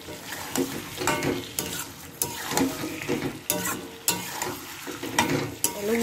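Fried potatoes being stirred into egg biryani in a pot, with repeated scraping strokes of a spoon in an irregular rhythm over a soft, steady sizzle, close and moderately loud, with no talking.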